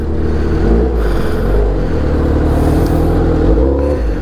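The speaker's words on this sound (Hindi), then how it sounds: "स्टार्ट हो जाए बाइक भी पता नहीं" A motorbike engine on a highway is started and revved, a loud continuous rumbling drone with rising and falling revs, close by and steady, with no talk over it.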